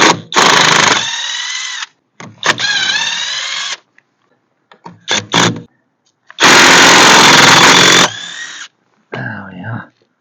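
A power tool, likely an impact gun, removes stubborn covered wheel nuts on an MG TF with the front raised. It runs in several loud whirring bursts of one to two seconds each, separated by short pauses and quick blips.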